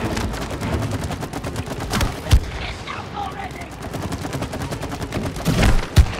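Rapid video game gunfire in It Takes Two, bursts of shots with a couple of sharper loud bangs, running under excited talk from players.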